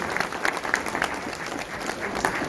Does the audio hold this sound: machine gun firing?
no